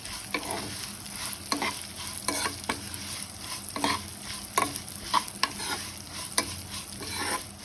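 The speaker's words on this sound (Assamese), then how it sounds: "ইয়াত মই সেৱৈখিনি ভাজি ল'ম" Vermicelli fries in ghee on low heat, a soft steady sizzle broken by repeated close scrapes of a spatula stirring the strands in the pan, no voices.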